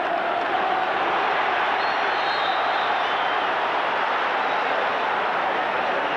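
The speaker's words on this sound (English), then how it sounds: "Crowd calling for a foul," A large football stadium crowd at an FA Cup third-round match between Manchester United and Sunderland roars in a sustained, dense wall of noise, rising as fans call for a foul.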